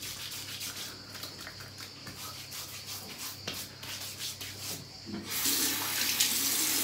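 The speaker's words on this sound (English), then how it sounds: "just take the shaving soap, run it under the hot water" Hot water runs steadily from a tap into a sink, a continuous splashing rush that swells louder near the end, with no voices.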